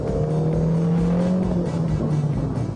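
Engine noise from a Rover CityRover with an 84 horsepower engine, a loud, steady droning hum that holds for a few seconds with a slightly rising pitch, as if heard from inside the moving car.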